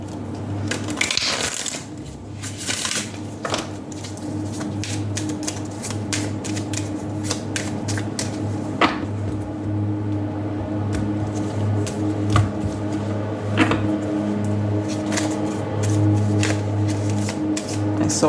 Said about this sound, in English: Let's take out more cards for you.